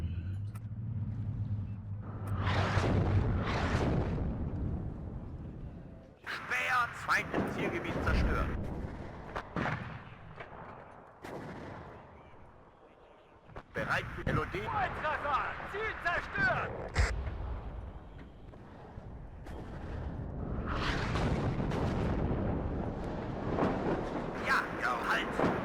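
Artillery fire in the WARNO real-time war game, heavy booming blasts and rumbling impacts striking units in loud bursts separated by quieter gaps, with someone talking over much of it.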